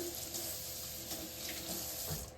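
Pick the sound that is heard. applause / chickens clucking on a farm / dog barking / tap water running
tap water running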